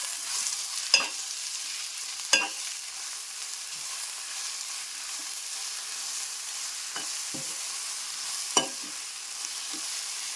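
Gongura (sorrel leaf) curry stirred in a pan: a steady sizzling hiss runs throughout, broken by a few sharp scraping clacks of the spoon against the pan.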